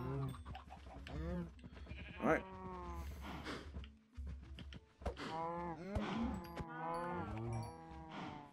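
Cattle lowing in Minecraft, several drawn-out moos and bleat-like animal calls in succession, loud and close, with game noise underneath.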